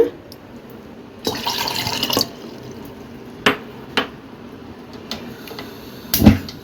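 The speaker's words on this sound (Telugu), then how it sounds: "ఒక బౌల్ నీళ్ళు ఇంకా హాఫ్ బౌల్ నీళ్ళు అయితే పోయాలి వన్ అండ్ హాఫ్ బౌల్ పోయాలండి" Water pours into a bowl while rasgulla is being made, a few short splashing bursts from a tap with knocks and drips between them, close and fairly loud, no speech.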